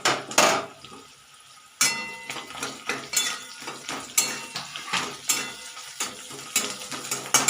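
Slit green chillies added to a frying pan with capsicum and onion bring a sudden sizzle, followed by repeated rhythmic clanks of a utensil stirring against the pan over steady frying.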